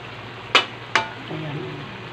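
Eggplant (talong) cooking in a pan, with two sharp utensil clinks against the pan followed by a soft, low sizzle and stirring.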